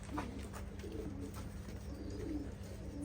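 Pigeons coo softly from inside a cellar loft, low repeated calls over a steady background hum, faint and continuous with no talk.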